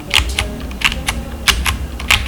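Typing on a tenkeyless mechanical keyboard with Akko white-on-black keycaps, close and loud, a quick uneven patter of sharp clacky keystrokes with no talk.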